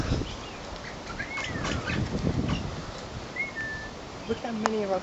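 King parrots flap their wings in repeated bursts and give short whistled chirps, near and fairly loud, while people talk over them outdoors.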